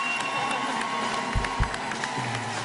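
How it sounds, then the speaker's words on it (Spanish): A studio crowd at a World Cup party show claps and cheers, scattered whoops and shouts rising over moderate applause, with a couple of low thumps midway. "Primero para Andrés, un aplauso"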